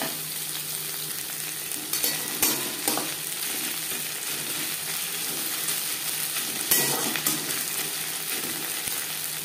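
Onion fries in a little oil with fish roe nearby, a continuous close sizzle broken by occasional scraping stirs of a spoon against the pan.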